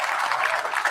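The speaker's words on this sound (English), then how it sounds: "Can we give a round of applause?" Brief round of applause from a small audience, a dense even wash of clapping lasting about a second.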